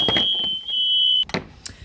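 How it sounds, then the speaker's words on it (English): A household smoke alarm set off by pizza cooking emits a loud, steady high-pitched tone for over a second, then cuts off amid clattering kitchen noises. "every time we cook a pizza, the fire alarm goes off"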